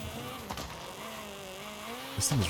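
A rally car with a 1.6-liter engine in Forza Horizon 5 drones steadily with shifting engine tones, ending in a louder burst of revving or tire noise, faint overall.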